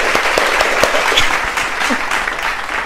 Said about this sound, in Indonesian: Kita tepuk tangan, mana suaranya?